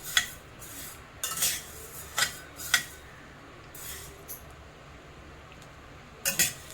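Coriander seeds dry-roasting in a hot kadhai, with a spoon scraping and clinking against the metal in short, irregular bursts over a quiet hiss.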